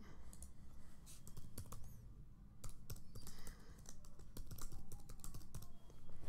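Rapid clicking keystrokes on a computer keyboard while an email address is entered, close and steady with brief pauses, over a faint background hum.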